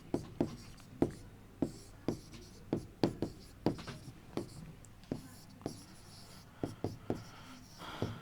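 Pen or chalk writing out notes during a livestock breeds lesson, a steady run of short scratchy strokes and taps repeating about twice a second, close and fairly quiet with no talk over it.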